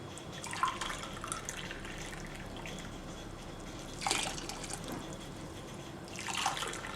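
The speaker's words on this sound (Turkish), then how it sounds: "Kaynamış su koyuyoruz." Boiled water poured into Ezo Gelin lentil soup in a pot: three short splashing pours, the strongest near the middle, over a low steady background, with no voices.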